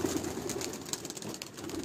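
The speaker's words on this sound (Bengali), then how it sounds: "এই উড়ানো হচ্ছে পায়রাগুলো এখন" Pigeons at a Madrasi pigeon flying tournament in West Bengal, soft cooing and faint wing flutter nearby, quiet and brief.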